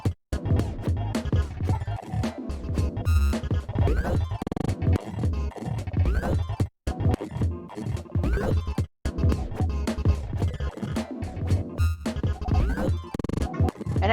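Dr. Octo Rex loops in Reason, chopped by Stutter Edit 2 glitch edits triggered from random MIDI notes, play as dense, loud electronic music with abrupt stutters, repeats and brief dropouts throughout.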